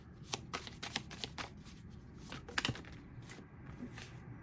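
Tarot cards being shuffled by hand at close range, a run of quick papery riffles and flicks with brief pauses, soft and steady with no talking.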